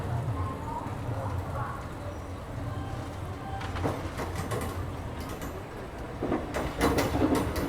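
The 12748 Vikarabad–Guntur Palnadu SF Express rolls into Guntur Junction railway station, with a steady rumble and clattering wheels on the rails, rising near the end under ambient station noise.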